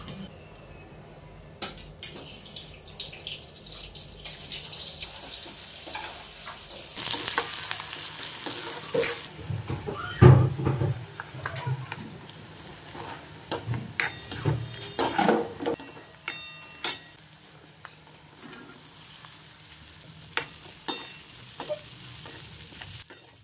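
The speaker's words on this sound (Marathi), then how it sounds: "तर चला तेल गरम झाले, जिरं टाकते" Cumin seeds crackle and sizzle in hot oil for tempering in a home kitchen, a steady close frying hiss with scattered pops and some clatter of a utensil against the pan.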